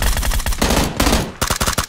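PlayerUnknown's Battlegrounds gunfire rattles loudly and close in quick automatic bursts, a dense run of shots followed by a short pause and then another sharp volley.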